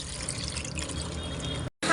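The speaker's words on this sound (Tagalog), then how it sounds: "Lagyan natin ng isang malaking mangkok na tubig." A large bowl of water is poured into a pan of chicken feet for adobo, giving a steady splashing gush up close that stops abruptly near the end.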